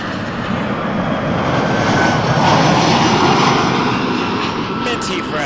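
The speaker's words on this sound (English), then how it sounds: "Air Canada 7090 from Winnipeg is a 320, and that is coming in right now" Air Canada Airbus A320 from Winnipeg arriving at Toronto Pearson Airport, a steady loud engine roar that swells slightly and holds throughout.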